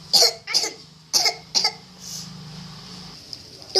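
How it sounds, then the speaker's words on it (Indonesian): Several exaggerated, theatrical coughs in quick bursts, soap-opera style, with a drawn-out breathy sound between them, performed close and loud by a single voice. "6, batuk sinetron"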